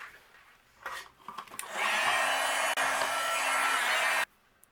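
An electric heat tool blows steadily for a couple of seconds, melting white embossing powder on a card panel, a loud broadband whoosh that cuts off abruptly, preceded by a few light handling clicks.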